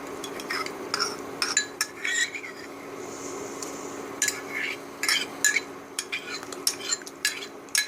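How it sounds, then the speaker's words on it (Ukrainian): Small dry poppy seeds poured into a pot of potatoes simmering in milky water, a soft rattling patter with clinking of utensil against the pot in short bursts over steady kitchen background. "Висипаємо в кастрюльку, де вже підварилася картопля."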